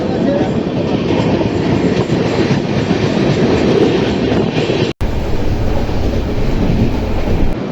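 A passenger train runs on the rails near Ghatshila on the line from Tatanagar, a loud, continuous rumbling roar with a faint clatter and one brief dropout partway through, with no speech.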